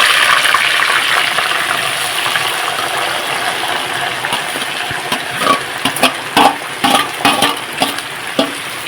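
Pieces of pomegranate lemon sizzle in hot oil with curry leaves for pickle. A steady frying hiss gives way to repeated sharp stirring scrapes and clinks in the pan.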